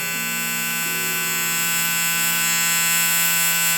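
Electric beard trimmer with a guard fitted running continuously up close, a loud steady mechanical buzz whose pitch shifts slightly as it moves through the beard, cutting off abruptly at the end.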